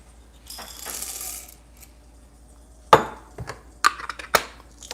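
Coffee beans are fed into a Millwright hand grinder, giving a brief rattling pour followed by sharp clinks and crunching knocks set at 25 clicks, close and intermittent over near silence.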